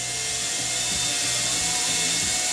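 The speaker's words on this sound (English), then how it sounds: "I'm going to chuck it up in my little drill here, put it on speed 2," A small electric drill runs at low speed, reaming out a tiny hole in a part from a 50cc revolver engine, giving a continuous close, steady high whir.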